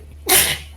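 One sharp, loud sneeze bursts out close by after a brief quiet moment during a tabletop game session.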